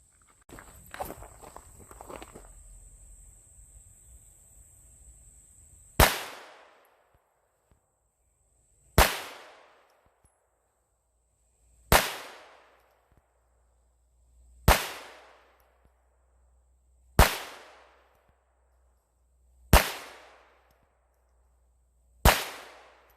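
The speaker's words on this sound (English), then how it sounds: "I'm going to be shooting 10 rounds of this Aguila Super X ammo." A Glock 44 pistol firing Aguila Super X rounds at an outdoor range, seven sharp, loud shots spaced a few seconds apart, each with a short decaying echo, after a stretch of quiet handling noise.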